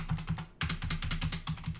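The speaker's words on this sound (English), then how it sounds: "I'm just going to press the keyboard." Keys on a computer keyboard are pressed in a quick, uneven series of crisp clicks, close and clear, with a brief pause early on before the typing resumes, and no talking over it.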